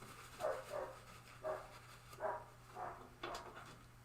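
Comet, a dog somewhere upstairs, barks over and over in a steady series of about seven loud, slightly distant woofs. A low constant hum runs underneath.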